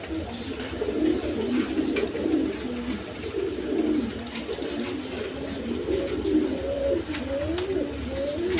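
Down face pigeons sit with their chicks and coo in low, wavering phrases that run on and overlap through the clip, close by, against a light background hiss.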